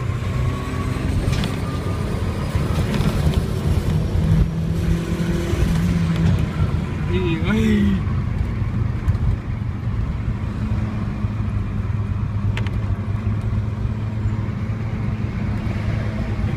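A Mazda MX6 Turbo car drives with turbo boost, a steady engine drone rising and pulling hard throughout, heard from inside the car with a brief shout partway through.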